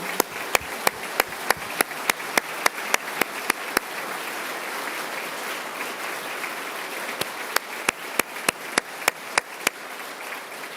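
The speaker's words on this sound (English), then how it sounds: "Let's give them and all the teachers at Austintown Elementary a round of applause for their commitment" Applause for teachers of Austintown Elementary during the Ohio State of the State Address, heard as sparse, sharp individual claps ringing out in a large hall over a steady crowd wash, quite distant and fairly faint.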